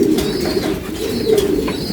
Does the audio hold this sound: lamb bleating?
no